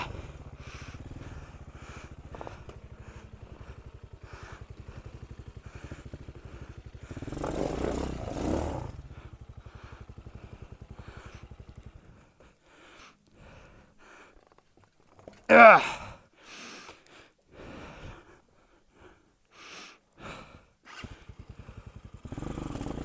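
A Hawk 250 dual-sport motorcycle ridden on a steep single-track trail: a faint, uneven engine drone with revving bursts, one loud roar about two-thirds of the way through, and stretches of near silence between them.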